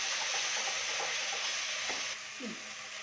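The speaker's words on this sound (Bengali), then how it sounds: "এটাকে ভালো করে মশলাটা কষাবো।" Masala with chilli powder and mustard paste sizzles and sputters as it is stir-fried in a pan for a fish curry, a close crackling hiss with occasional spatula scrapes, dropping slightly toward the end.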